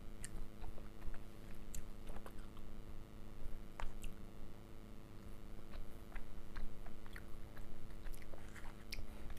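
Cirembay, a chewy half-fried tapioca snack with chili, chewed close to the mic in a continuous run of wet, squishy bites and soft crunches over a steady background hum.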